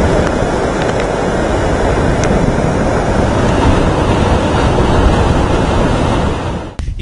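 Water gushes in a loud, steady roar from the fifth gate of Radhanagari dam into the Bhogavati river, a dense rushing wash close by with wind buffeting the microphone, cutting off abruptly at the end.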